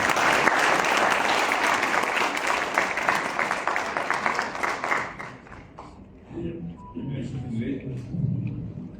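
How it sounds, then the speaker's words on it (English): Audience applause at a book launch welcoming the Prime Minister to speak: steady, full clapping from a large crowd that thins out and fades midway, followed by low room noise and a voice. "Sous nos applaudissements, bien entendu."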